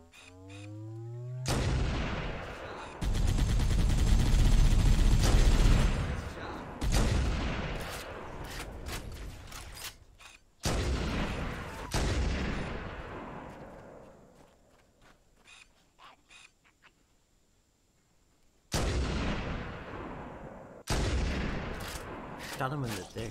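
Gunfire from the video game Halo: Combat Evolved, several loud bursts and booming shots in separate clusters with quieter gaps between, heard close with no voices.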